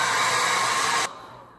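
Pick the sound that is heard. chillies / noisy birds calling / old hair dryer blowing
old hair dryer blowing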